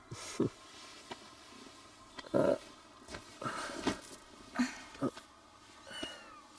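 A cat meows several times in short, separate calls spread over a few seconds, close and moderately loud, with a quiet indoor background.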